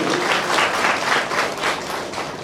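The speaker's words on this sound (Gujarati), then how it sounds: "આ બધાએ તાળીઓ પાડવી જોઈએ" Audience applause at an inauguration of a public service centre in Botad, a steady, fairly loud wash of clapping for the whole short stretch.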